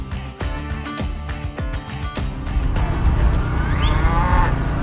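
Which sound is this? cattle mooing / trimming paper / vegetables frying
cattle mooing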